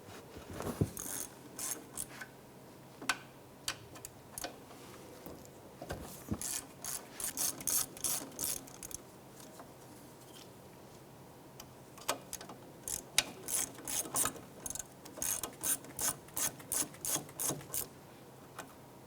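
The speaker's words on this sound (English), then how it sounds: "Remove your caliper slide pins here using a number 7 Allen wrench." An Allen wrench ratcheting out the brake caliper slide pins on a 2001-2007 Ford Escape: bursts of rapid metallic clicking, close and crisp, with pauses between runs and no voices.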